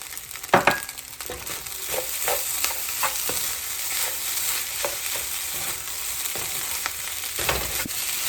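Gluten-free breakfast fried rice with egg and peas being tossed and stirred in a hot pan: a steady sizzle under repeated scraping, clattering stirs, close and moderately loud, with no talking.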